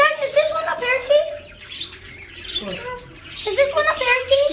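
Parakeets in a pet store chirp and warble busily up close in bright repeating bursts, with a voice speaking over them.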